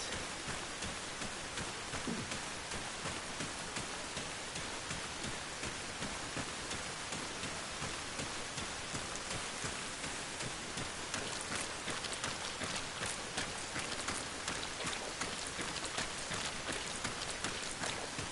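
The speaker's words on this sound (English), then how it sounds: "Great, back out into the rain we go." Steady, dense rain hisses evenly in the Arma Reforger video game, a constant wash of downpour with no pauses and no voices over it.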